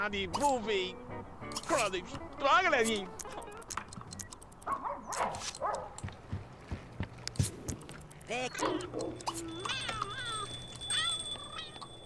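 A cat meows several times in The Sims 2, the calls mixed with game sounds, a dog-like bark, and a voice talking throughout.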